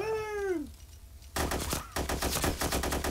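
Rapid automatic gunfire in the Arma II video game, a fast train of loud bursts after a brief tonal cry, close and dense, with no speech over it.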